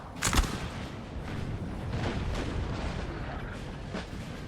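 Napoleonic-era cannon fire in the strategy video game Napoleon Total War, with a sharp booming shot at the start followed by scattered distant thuds over a steady battlefield rumble.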